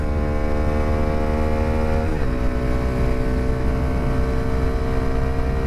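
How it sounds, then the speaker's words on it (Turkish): Bajaj Dominar 250 motorcycle pulling hard uphill in second gear from around 30 on a rough road, a loud steady engine drone whose pitch dips briefly then climbs again. "şimdi bu yokuşta ikinci viteste 30'larda gaza bastım kökledim"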